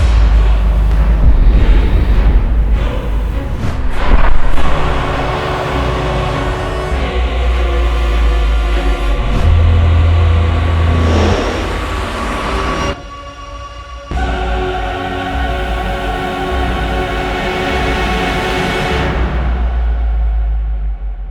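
A Kia Mohave D3 SUV on a test drive gives a loud, steady roar of engine and road noise from inside the cabin. The roar briefly dips about two-thirds of the way through, then carries on without talk.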